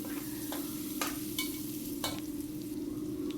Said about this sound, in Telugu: ఉల్లిపాయ బాగా వేగనివ్వాలి